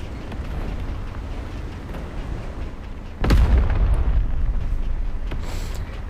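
Tank explosion in War Thunder Mobile as a T-34-85 is destroyed: a sudden loud boom bursts out over steady rumbling battle noise, then a heavy low roar lingers and slowly fades.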